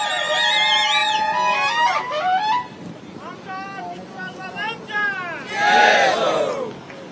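A large crowd at a political campaign rally in Satara cheers and shouts loudly for Prithviraj Chavan, with rising waves of voices that swell again near the end.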